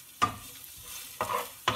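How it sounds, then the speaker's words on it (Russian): Onions sizzle quietly in a pan, with three short bursts of crackling as they are stirred, separated by softer frying. "Лук обжариваю, потом морковку туда, томатную пасту, фаршик обжарю все."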